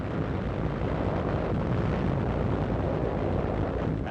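Artillery shells exploding on Japanese positions at Okinawa's Shuri front make a loud, dense, continuous roar of rumbling blasts that run together without clear breaks.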